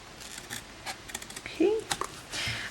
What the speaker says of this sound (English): The very little flap at the end, we are just going to cut that off.